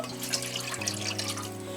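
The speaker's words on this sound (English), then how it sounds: "The first thing I'm going to do is to add just a little water." A little water pours into a cooking pot at the start of preparing ayoyo with okoro, a steady close splashing stream without speech.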